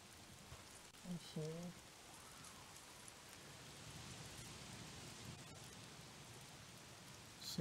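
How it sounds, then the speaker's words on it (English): Steady rain pours in the Days Gone video game, a soft continuous wash with a few faint scattered sounds and no talk over it. "If it's not the freaks, it's the goddamn rain."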